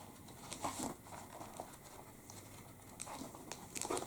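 Paper pages being turned and handled up close, soft crinkles and rustles coming in a few quiet bursts.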